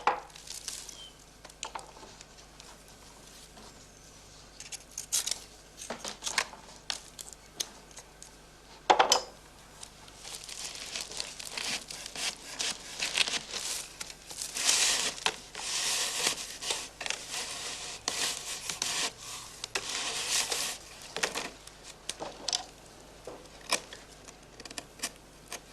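A knife cuts reed strips while a beekeeper repairs a straw skep hive, producing faint, scattered snips, scrapes and rustles in a quiet room.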